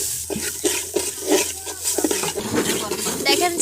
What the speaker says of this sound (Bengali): এইবার আমরা চালটা হালকা করে ভেজে নিব।